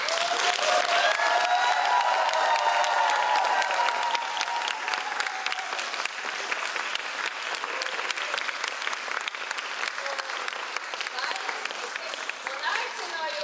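Sustained applause from an audience filling a hall at a folk dance evening event, loud and dense clapping that continues steadily for the whole stretch without any talk.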